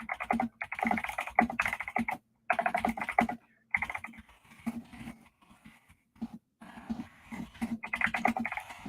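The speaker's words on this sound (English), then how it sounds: "can you guys hear the keyboard, the clickety clack?" Rapid bursts of clicky keystrokes from a computer keyboard being typed on at night, close and crisp, coming in clustered runs separated by short pauses.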